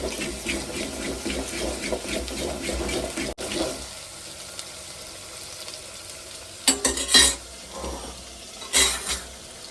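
Garlic paste being stirred into sizzling dal in a pan: a steady wet frying hiss with busy scraping for a few seconds, then quieter bubbling broken by sharp clinks of a spoon against the pan.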